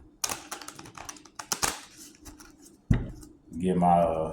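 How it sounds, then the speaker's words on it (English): A deck of tarot cards being shuffled by hand gives a run of crisp, uneven clicks and riffles close by, followed by a sharp knock and then a voice speaking. "Right now, I'm just shuffling the cards."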